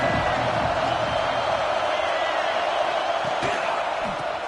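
A stadium crowd roars in NCAA 26 during an Auburn vs Clemson game, a steady loud wash of cheering with a few thuds and whoops, and commentary voices run underneath.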